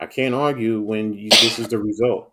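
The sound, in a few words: sneeze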